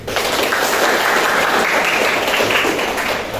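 An audience in a classroom or training session claps steadily, a dense, loud, even applause sustained throughout with no pauses.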